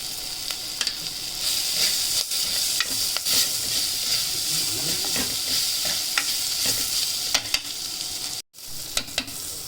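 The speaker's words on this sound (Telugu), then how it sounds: "దాంట్లోకి ఉల్లిపాయలు వేసేసి మగ్గనివ్వండి." Onions sautéing with turmeric and salt in a pan, a steady close sizzle and frying hiss with occasional stirring scrapes and clicks throughout.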